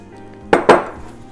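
Meatloaf mixture and breadcrumbs stirred in a bowl, two sharp clanks of utensil against the bowl in quick succession followed by a faint softer tap, close and without talk.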